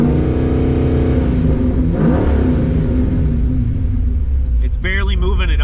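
Pontiac Firebird with a swapped engine and low oil pressure, revving as the throttle opens: a loud, steady rumbling engine note that builds and holds, with someone talking over it.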